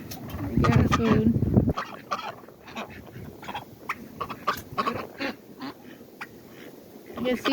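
Ducks quack in short, scattered bursts on a homestead at the start of a cold, windy winter storm, with a louder cluster at first, then fainter calls over constant wind.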